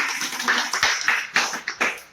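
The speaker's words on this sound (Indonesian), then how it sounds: "Ayo tepuk tangan." Children in a tooth-brushing health lesson clap their hands together in a busy, uneven patter. The claps bunch into sharper, louder bursts toward the end, heard close and clear with no voices.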